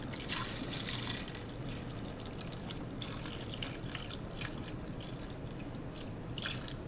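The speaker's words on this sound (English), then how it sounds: "I have a funnel, and I'm just going to pour the fabric softener" Fabric softener pours through a funnel into a jug resting over a sink, a steady, fairly loud liquid gurgle and trickle with no talk.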